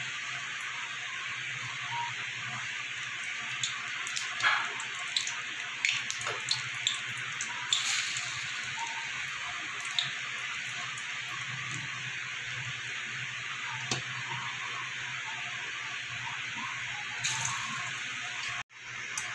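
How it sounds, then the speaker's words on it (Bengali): Bitter gourd pakoras frying in hot oil in a wok: a steady, faint bubbling sizzle runs throughout, with occasional louder pops and spatters. "এবার আমি এটাকে বড়ার শেপে ভেজে নেব।"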